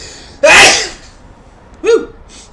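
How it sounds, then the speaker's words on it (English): One sharp, close sneeze bursts out loudly, then a brief vocal gasp or exclamation follows about a second later. "Gesundheit."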